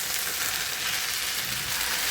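Shrimp with malabar spinach frying in a pan while stirred, a dense, continuous close sizzle with no talking over it.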